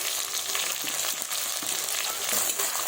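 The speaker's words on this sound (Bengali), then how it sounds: "ভালোভাবে লাল লাল করে ভেজে নেব" Whole garlic cloves, minced garlic, chopped onion and bay leaves fry together in a pan for a mutton curry, a dense, steady sizzle with crackling close up throughout, no voices.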